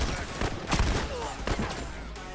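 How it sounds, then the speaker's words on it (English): Launcher weapon fire in a 4v4 video game tournament final, a dense burst of loud, booming blasts that overlap and roll together, with faint talk mixed underneath. "Corona launching many launcher bullets."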